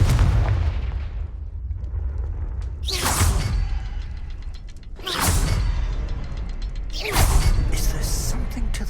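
Confringo fire-blast spell cast in the video game Hogwarts Legacy: three loud bursting booms with whooshing tails, spaced about two seconds apart over a steady low rumble.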